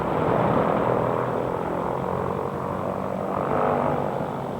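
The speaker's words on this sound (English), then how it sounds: "Once again, the reliable engines start without hesitation." Propeller engines run with a loud, steady droning roar, constant throughout with a slight swell near the end and no voices.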